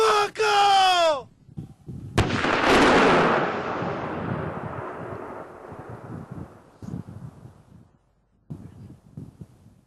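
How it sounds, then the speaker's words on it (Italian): Controlled detonation of an explosive charge at a blasting site in Treviso, Italy, preceded by a tonal warning blast. A loud, sharp boom is followed by a long rolling, fading rumble with wind noise. "Attenzione! Brillamento!"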